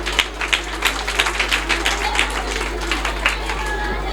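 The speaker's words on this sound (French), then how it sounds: "Merci à eux et un grand applaudissement pour eux aussi" Audience at a year-end celebration of the Senlux private school in Niague, Dakar area, claps in a light, irregular patter under a steady low hum, with some background voices.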